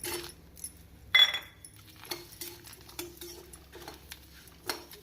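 Tomatoes and chillies being stirred in a pan for mutton kulambu, with faint scrapes and light clinks of a spoon against the pan in a quiet kitchen, one brief louder clatter early on.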